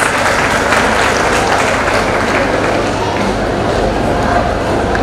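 Parents applaud at a school programme evening, a steady loud wash of clapping running the whole stretch with crowd murmur and voices mixed in underneath.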